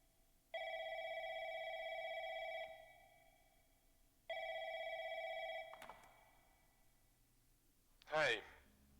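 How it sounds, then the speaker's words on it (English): A video game telephone rings twice in long, even electronic tones with a pause between, followed by a brief click and a short rustling burst. "A phone call."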